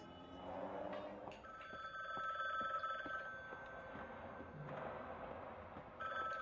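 A telephone rings inside a house in The Bookwalker video game, its bell tone sustained and steady across the whole stretch at moderate loudness, with low background ambience beneath and no talk.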